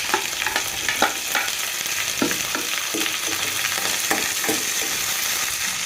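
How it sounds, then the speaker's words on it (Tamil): Onions and garlic sautéing with spices in a hot pan for Chettinad chicken, a continuous close sizzle broken by regular scraping and clinking strokes of a spoon stirring. "வெங்காயம் நாலு பூண்டு சேர்த்துக்கலாம் சேர்த்து நல்லா வதக்கி விட்டுக்கலாம்"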